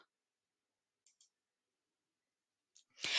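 A computer mouse gives a few faint, soft clicks spread across near silence, followed by a louder burst of noise at the end.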